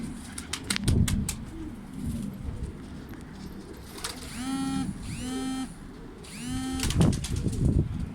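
Tumbler pigeons coo in repeated low throaty phrases over a busy background, with several sharp clicking bursts and wing-like flutters scattered throughout.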